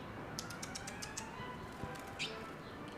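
A baby bird stuck out of its nest gives a quick run of high, thin chirps, followed later by a single call, over steady outdoor background noise.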